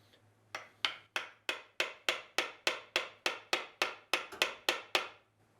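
A screwdriver is used to pry a part off an abandoned Pontiac, heard as about fourteen sharp metallic strikes in a steady, even rhythm. Each strike rings briefly against a faint low hum, with no voices.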